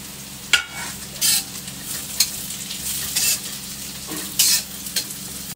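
Chowmein stir-fried over a full gas flame, a constant close sizzle broken by several sharp bursts of tossing and spatula scrapes at irregular intervals, with no talk.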